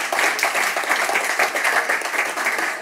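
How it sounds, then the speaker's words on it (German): Audience applause at a live podcast panel discussion, a steady, dense burst of many hands clapping continuously for about three seconds, fairly close and loud with no speech over it. "Ein Applaus für den mutigen Herrn."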